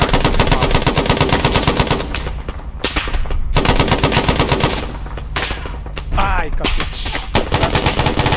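Bursts of rapid machine gun fire from a war film rattle loudly and nearly continuously, with brief pauses between volleys and faint voices underneath.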